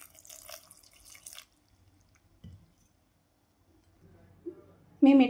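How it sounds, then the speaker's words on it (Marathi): Water poured into a ground chutney with roasted peanuts, made for an instant mixed-dal dosa: a brief splashy, dripping gush near the start, then mostly quiet with a few soft knocks and a louder clatter at the end. "मी चटणीमध्ये थोडं पाणी टाकून घेते."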